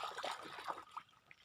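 Faint, continuous trickling and gurgling of a river flowing beside a hut, soft, close and steady, with no voices.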